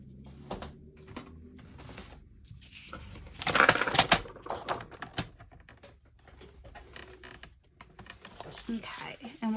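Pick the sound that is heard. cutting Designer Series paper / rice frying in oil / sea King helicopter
cutting Designer Series paper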